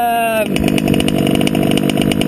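A gas-powered TLR 5B RC buggy with an OBR 34SS reed engine screams at high revs on 32:1 fuel, a steady loud buzzing whine after a brief rising rev at the start.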